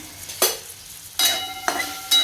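Spatula strokes scrape through onion-tomato gravy sautéing in a kadhai, a few distinct scraping bursts with quieter sizzle between them, close and alone.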